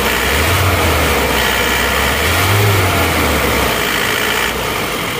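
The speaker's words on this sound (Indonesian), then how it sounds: "Jadi di gas itu di RPM bawah sampai atas itu nggak ada yang kosong, jadi isi terus." An Isuzu Panther diesel engine runs loudly and steadily close by, swelling in a couple of low surges as the revs rise and fall, with no voices over it.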